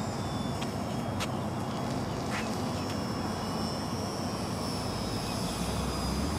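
A Slow Stick RC model airplane flies nearby with a steady buzzing electric-motor drone over windy outdoor noise, continuous and moderately loud, with a few faint chirps mixed in.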